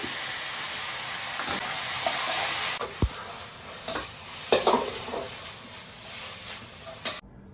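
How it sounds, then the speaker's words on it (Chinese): Green pepper strips hit hot oil in a wok with scallion, ginger and garlic, giving a loud continuous sizzle that stays steady through the stirring, with a few scraping clatters of the spatula and a sudden cutoff at the end. "倒入剩下的葱姜蒜，倒入青椒丝。"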